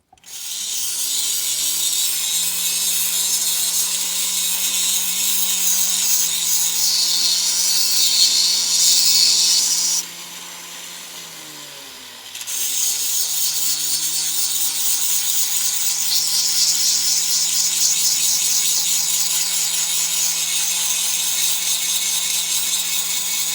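A saw cuts through Australian black opal from Lightning Ridge, giving a steady, loud high-pitched grinding whine over a low motor hum. The cutting noise drops away briefly partway through, then resumes.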